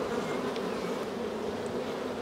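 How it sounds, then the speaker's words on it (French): Dense, steady buzzing of many honeybees swarming around an open, highly populous hive, a continuous close hum with no talking. "Donc là pareil, beaucoup d'abeilles."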